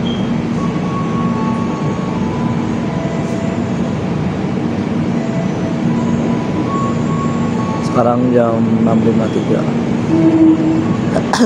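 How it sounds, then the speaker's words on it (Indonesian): A steady rumble of an electric KRL commuter train arriving at a station rolls in beneath a person speaking, with a brief horn-like tone and rising mechanical whine near the end. "Ini dia KRL komuter."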